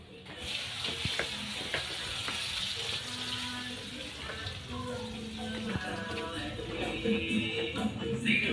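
Fish frying in a pan at a gathering gives a steady, busy sizzle and crackle throughout, with stirring clatter and faint voices and background activity underneath.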